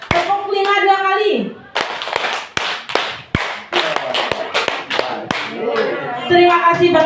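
Two rounds of five sharp rhythmic hand claps from a group, close and loud, with a voice speaking before and after the clapping.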